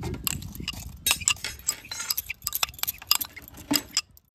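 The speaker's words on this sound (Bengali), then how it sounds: "মিক্স জারের মধ্যে এবার এই মিশ্রণগুলো দিয়ে দেব।" Dried, washed rice and lentils are poured into a mixer jar for a homemade soap, rattling and clinking loudly at close range in quick, uneven bursts that taper off at the end.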